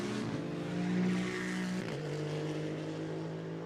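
Maserati GT2 race car at Monza braking hard into the first chicane, a loud steady engine drone dropping in pitch through the downshift and then holding a lower note, with no talk over it.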